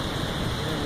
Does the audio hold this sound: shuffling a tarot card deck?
no